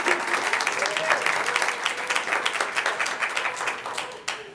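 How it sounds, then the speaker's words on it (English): An audience at an Iowa City city council meeting applauds the councilors, a steady round of close clapping from a modest crowd that tapers off near the end. "we should give our city councilors a huge round of applause"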